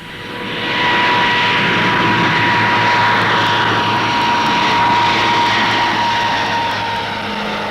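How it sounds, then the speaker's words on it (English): An Armstrong Whitworth Argosy freighter with Dart turboprop engines roars past at an air show, a loud, sustained engine drone with a steady whine that swells and then eases slightly, heard alone. "Another of 1959's newcomers is the Argosy Freighter Coach, a new design from Armstrong Whitworth for the rapidly expanding air freight market."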